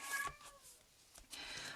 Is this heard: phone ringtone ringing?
no